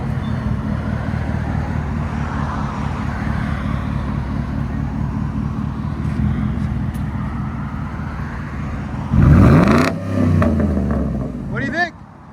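A 2011 Ford F-150 XLT with a 5.0L V8, Dynomax Race Bullet and muffler delete, idles with a steady loping burble, then revs in two sharp bursts that climb and fall away.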